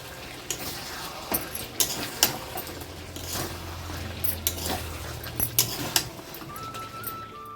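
A meat curry is stir-fried in a pan, with a soft, steady background sizzle and intermittent clinks and scrapes of a utensil against the pan, fairly faint and without talk.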